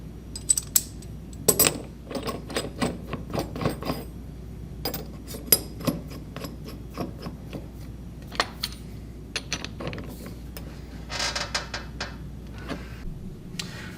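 A high Q nut is torqued onto a metal bolt assembly, producing sparse, sharp metallic clicks and ticks spread irregularly across the span, close and fairly quiet, with no talking.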